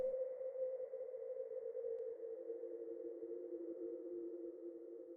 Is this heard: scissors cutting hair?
no